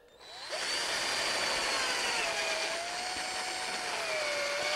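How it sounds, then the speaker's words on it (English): A cordless power drill runs steadily and loudly while boring into a wooden driver pattern, its whine holding nearly constant and shifting pitch slightly as it works. "I gotta drill it."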